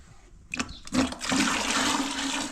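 Water gushes into a mop bucket during household cleaning, starting with a few splashy knocks and then a steady loud rushing pour, close by with no talking.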